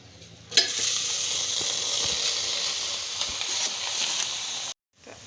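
A thick puran of cooked chana dal and jaggery being stirred in a hot pan, a steady close sizzle with occasional scraping knocks that starts abruptly and cuts off near the end, with no talk.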